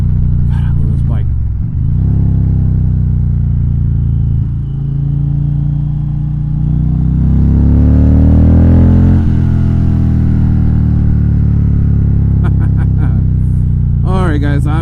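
A motorcycle engine rumbles loud and close, its pitch rising and falling as it revs up and settles, with a person talking over it.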